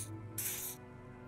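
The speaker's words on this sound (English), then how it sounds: "Odd smelling spray, a double helping as you present your other armpit" A pheromone spray canister in Disco Elysium gives two short hisses, a brief one and then a longer, louder burst, heard alone.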